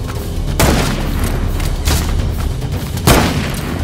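Gunshots ring out in a trick-shot attempt, three loud booming blasts spaced about a second and a half apart, each followed by a rumbling echo over a noisy background.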